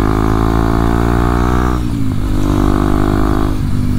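A 2023 Kawasaki KLX 230SM single-cylinder motorcycle engine droning loudly and steadily while riding, with its pitch dipping twice as the rider rolls off and back on the throttle, no voices over it.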